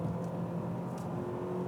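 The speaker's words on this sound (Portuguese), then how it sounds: "agora eu senti uma presença de ruído um pouco maior, mas ele é tão isolado, o motor" Inside the cabin of a 2024 Honda CR-V hybrid while driving, a steady low engine and road hum drones evenly, subdued by insulation, with no speech over it.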